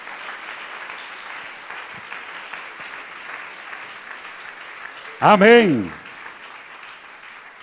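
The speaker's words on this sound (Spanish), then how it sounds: "¿por qué no le damos un aplauso al Señor?" A church congregation bursts into brief, loud applause in praise of the Lord during a sermon, lasting under a second after steady preaching, with a voice saying amen.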